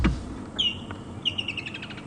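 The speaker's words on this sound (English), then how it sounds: "There's the rattling cisticola going." Rattling cisticola calls during an evening safari drive: thin, high chirps and a rapid rattling trill come in short bursts from nearby, over faint background noise.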